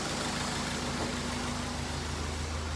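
A 2003 Honda CR-V engine idles steadily after a timing chain repair, with a smooth, even low hum and a faint regular pulse, heard close and continuous and no talking.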